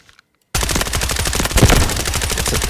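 Suppressed Russian rifle firing in a video game, a loud rapid burst of full-auto shots in a fast even rhythm after a brief silence, close and continuous.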